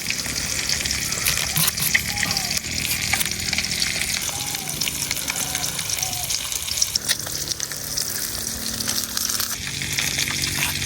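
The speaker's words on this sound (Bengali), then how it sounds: "এখন এই মাছ ভাজার তেলের মধ্যে দিয়ে দিতেছি পেঁয়াজ" Onions sizzle in the hot oil left from frying fish, a loud, continuous crackle with some stirring throughout.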